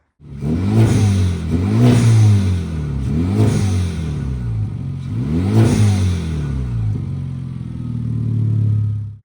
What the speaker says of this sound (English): I got an HPS intake, as you can see, and it's giving me no problems at all. Beautiful turbo sound and all that.